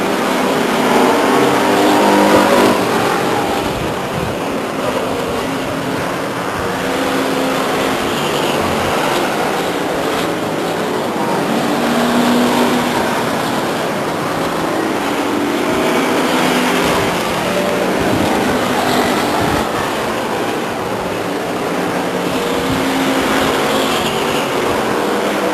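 Race cars circle the Stockton 99 Speedway oval during a 1999 race, producing a continuous, loud roar of engines that swells and fades slightly as they pass, with no clear talk.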